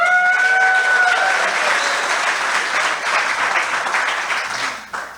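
Audience applause at an investor summit, a loud steady wash of many hands clapping that holds for several seconds, then tapers off at the end while a voice speaks over the start.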